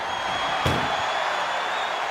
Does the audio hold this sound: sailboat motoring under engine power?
no